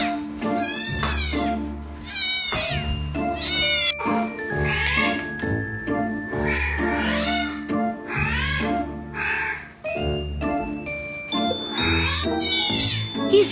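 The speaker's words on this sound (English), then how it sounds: "getting my cat's reaction to cat sounds" Recorded cat meows play to a house cat, a run of drawn-out, wavering meows and yowls repeating loudly every second or two, close and clear, with faint chiming in between.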